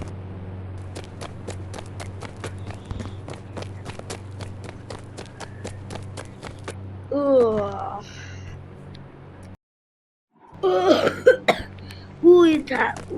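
A person coughs repeatedly, first in a long run of short, evenly spaced hacks, then in heavier, rougher coughs with throat clearing after a brief silence. The coughs are close and fairly loud.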